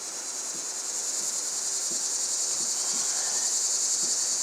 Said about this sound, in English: the crickets are out there doing their thing